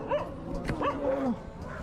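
A couple of dogs chase a motorcyclist on the road, giving faint, brief yelping barks and whines over low traffic and engine noise.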